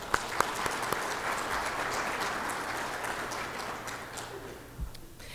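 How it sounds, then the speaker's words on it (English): An audience at a corporate project kick-off event applauds steadily, a dense patter of clapping with a few sharper claps early on, gradually thinning toward the end. "I do want to give them a round of applause for the exceptional work that they've been doing on this program"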